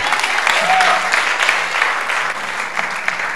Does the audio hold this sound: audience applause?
yes